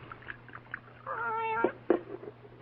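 A cat meows on a bar counter in a quiet, nearly empty bar, one drawn-out, clear meow followed by a shorter, sharper cry over a low steady background hum.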